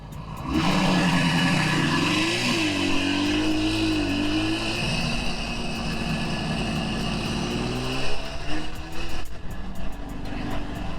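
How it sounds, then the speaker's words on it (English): A 1977 Suzuki GT250 two-stroke motorcycle fitted with Micron exhausts rides along, its engine droning loud and steady with rising and falling revs throughout. "you get all the sounds of the two-stroke, nostalgia, everything you'd really want from a bike like this."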